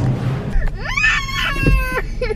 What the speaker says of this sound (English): I had to wake him up to get in the car seat and now he's screaming.